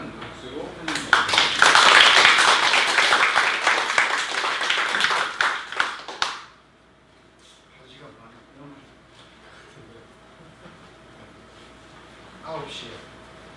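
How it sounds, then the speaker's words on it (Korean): A lecture audience applauds warmly to welcome the speaker before a talk on the painter Lee Jung-seob, a dense, loud burst of clapping lasting several seconds that stops abruptly, followed by quiet room noise and faint murmurs. "따뜻한 박수로 환영드립니다."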